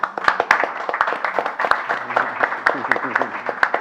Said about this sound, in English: that deserves a real applause